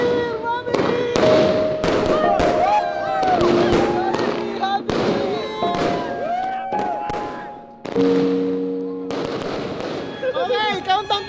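New Year fireworks burst and crackle in rapid succession at a year-end party, loud pops and booms mixed with people shouting and cheering nearby.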